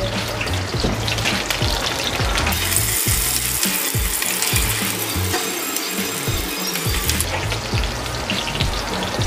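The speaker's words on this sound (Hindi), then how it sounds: "आधी शिमला मिर्च जाएगी इसके अंदर। और इसको करूँगा मैं हल्का सा फ्राई।" Capsicum fries lightly in ghee, a bright crackling sizzle with rapid clicking and tapping from stirring in the pan, close and continuous without speech.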